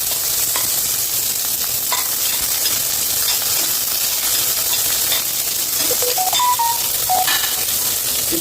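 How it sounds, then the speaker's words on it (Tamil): Fennel, mustard seeds and onion fry in a hot pan for a vegetable kuzhambu tempering, a steady loud sizzle with scraping stirring and small pops throughout, no talking. "தாளிப்பு சோம்பு கடுகு வெங்காயம்"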